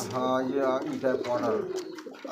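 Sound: pigeons cooing

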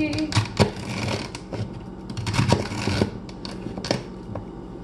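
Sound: knife chopping celery

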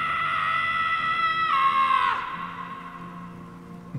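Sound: character screaming in Guardians of the Galaxy video game

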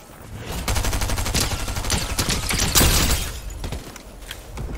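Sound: gunfire in a video game

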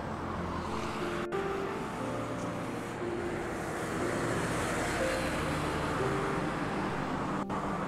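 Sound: road traffic heard from a park under a bridge

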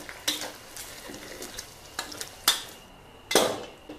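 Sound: frying pork in a pan

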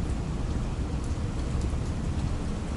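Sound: rain falling in Bangkok

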